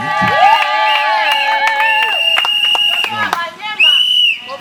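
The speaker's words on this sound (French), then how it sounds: "Il va s'élever sous l'applaudissement du public." Guests at a civil wedding cheer loudly: high, sustained voiced shouts and ululating cries rise and fall over one another, with sharp whistle-like calls and excited crowd noise close by.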